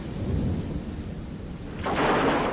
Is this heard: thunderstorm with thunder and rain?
yes